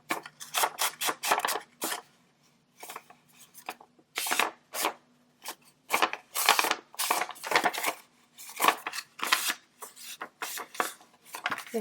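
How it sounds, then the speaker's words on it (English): Square paper refolded along existing creases while making a pocket craft, producing close, crisp crinkling and rustling bursts in an irregular rhythm with brief gaps. "you're going to go ahead and just refold on those same lines"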